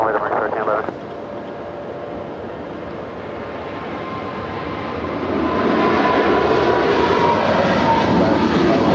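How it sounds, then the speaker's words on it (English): A Korean Air Boeing 747 lands at LAX on the north-side runway, its distant engine roar swelling into a loud, sustained rush as it comes closer. "the Korean Air 747 landing up there on the north side on 24 rights"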